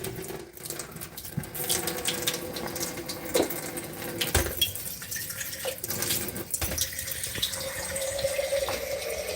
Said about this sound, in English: I think I'll add some more water to it.